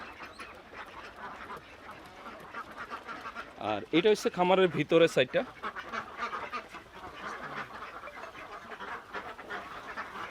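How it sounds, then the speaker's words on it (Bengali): A burst of loud Khaki Campbell duck quacking rises in the middle, several birds calling at once nearby on a farm, while a person talks before and after. "এইগুলো কোন জাতের হাঁস ভাইয়া এগুলো অরিজিনাল খাকি গ্যাম্বেল"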